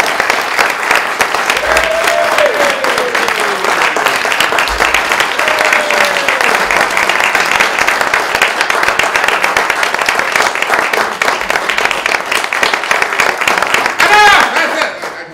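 Steady applause from a convention audience of magicians fills the whole stretch as a comedy magician takes the stage, dense clapping holding a constant level with a few brief whoops rising above it.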